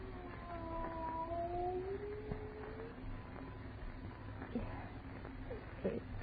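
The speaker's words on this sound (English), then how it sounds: "It is a cat." A cat yowls in long drawn-out wavering cries, faint and somewhat distant over a steady background hiss, in an old radio drama.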